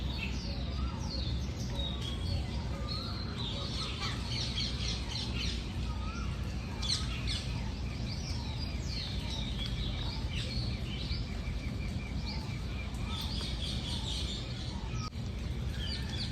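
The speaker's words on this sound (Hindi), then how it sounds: "पक्षियों की आवाज़ आ रही है आप लोगों को? ध्यान से सुनना।" Many birds chirp and tweet continuously, overlapping calls filling the air against a constant outdoor hum.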